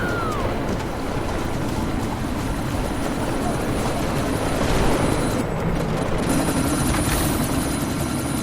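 Helicopter rotor thrum in the video game Deus Ex: Mankind Divided, a steady broadband roar throughout amid a sandstorm, swelling slightly midway with faint voices underneath.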